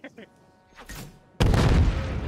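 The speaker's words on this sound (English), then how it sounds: "That shotgun needs to be nerfed." A shotgun blast from the video game Call of Duty: Modern Warfare III hits loud and sudden partway through, after a player's brief voice, followed by a dense rumbling burst of gunfire.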